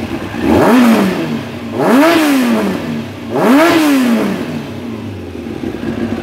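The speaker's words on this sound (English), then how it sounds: "Revs up nice and cleanly." A Kawasaki ZX9R motorcycle engine revs up sharply three times in a row, each rise and fall of pitch loud and close, settling back toward idle afterward.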